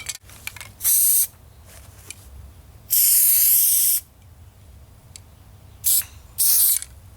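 Several bursts of Ironlak spray paint hissing from a can, spraying a solid line: a short spurt, a long steady blast, then two quick spurts, with quiet pauses between.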